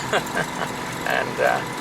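A Citroën 2CV engine drones steadily from inside the car on a sunny day, a low continuous running noise beneath someone talking throughout.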